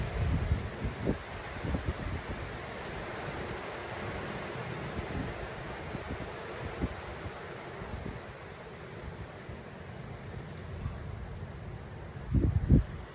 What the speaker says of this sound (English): we won't have a little silent moment because it's windy.